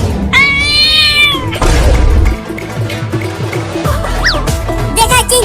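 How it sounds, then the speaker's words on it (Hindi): A cartoon cat lets out a drawn-out meow near the start, followed by thumps and scuffling, with a shorter, higher cry later amid busy cartoon effects and background noise. "अरे वाह, वो रही एक बिल्ली"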